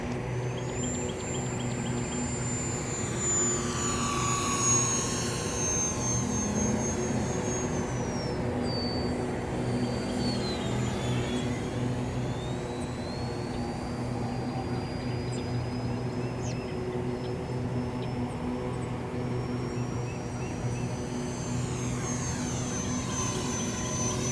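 An E-flite UMX Viper 30mm electric ducted-fan model jet makes a full-speed pass, its high whine sweeping up and down in pitch as it flies by, steady and fairly loud over a constant low background hum.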